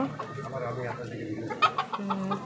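Backyard hens cluck softly nearby, a few short, irregular clucks and murmurs over a quiet background.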